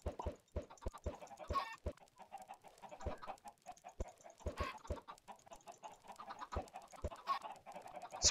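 Chickens on an automatic farm in Minecraft cluck in a steady, scattered stream, with short plopping clicks from the game mixed through. No one speaks.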